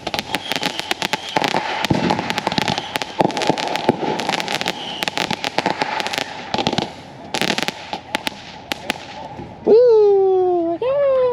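New Year's fireworks going off in a rapid, dense barrage of sharp bangs and crackles, loud and close, with a rising whistle near the end.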